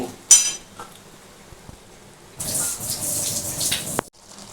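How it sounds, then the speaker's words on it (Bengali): A bowl is rinsed under running water: a sharp clink of dishware, a quiet pause, then a gushing stream of water pours for about a second and a half before a final knock and stop. "এইটা কিন্তু আমি একটু ধুয়ে এর মধ্যে কিন্তু দেব"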